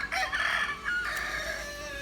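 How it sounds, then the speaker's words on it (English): Chickens clucking with a rooster crowing nearby at a house construction site in Bohol, Philippines, a short, moderately loud crow over soft background clucks. "Those are my brother's chickens"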